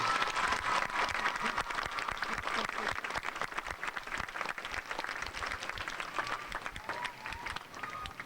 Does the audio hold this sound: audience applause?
yes